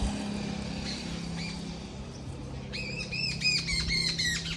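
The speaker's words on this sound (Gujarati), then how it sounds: "ચકલાનો કલબલાટ સંભળાય" Sparrows chatter outdoors in a quick burst of repeated high chirps that starts partway through, over a low steady background hum, with no one speaking.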